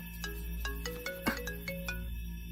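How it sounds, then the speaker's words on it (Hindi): A mobile phone ringtone plays in a steady pulsing pattern of short tonal beeps, fairly faint and alone, with a brief louder knock partway through. "किसका फोन बज रहा है यहाँ?"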